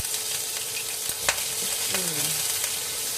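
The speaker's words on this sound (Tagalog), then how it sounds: "Ito na, mainit na yung ating mantika. So, ilagay natin yung sibuyas." Onions hit hot cooking oil for beef ampalaya, giving a loud, steady crackling sizzle with a few sharp clinks from stirring, close up and without speech.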